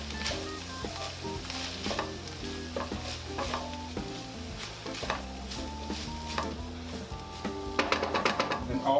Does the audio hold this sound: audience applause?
no